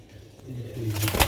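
A Sialkoti chhat wala pigeon coos in a few soft, low rounded notes, close by and fairly quiet, with a slight flutter of other bird sounds near the end.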